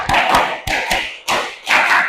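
Schoolchildren in a class clap a set rhythm together, four loud bursts of sharp claps separated by short gaps, with a lively group sound behind them.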